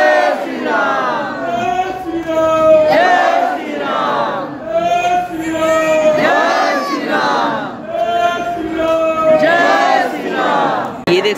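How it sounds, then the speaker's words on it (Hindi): A large crowd of devotees at Hanumangarhi chants Jai Shri Ram in loud, rhythmic unison, the chant rising and repeating in waves with many voices overlapping up close. "जय श्री राम के नारे लगते हुए और सब भक्त दर्शन करने के लिए जा रहे हैं।"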